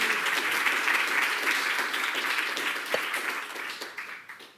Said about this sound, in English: I hope you will welcome her all with a nice round of applause.